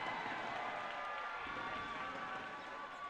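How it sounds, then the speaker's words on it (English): Sustained crowd noise from the stands at a women's gold medal match against Canada, a steady wash of cheering and clapping at moderate distance with faint thumps running underneath. "You can hear lots of cheering coming from the stands now."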